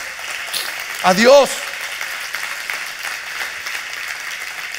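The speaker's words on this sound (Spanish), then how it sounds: "Dale ese aplauso a Dios." Congregation applause during a church sermon, a steady wash of clapping under a brief spoken phrase near the start.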